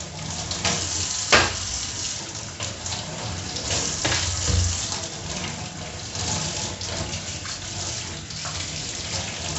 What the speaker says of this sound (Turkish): malzemeyi tek tek duruluyoruz. Bunda bol bol durulayın.